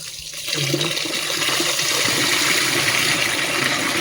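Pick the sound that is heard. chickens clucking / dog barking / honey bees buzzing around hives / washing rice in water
washing rice in water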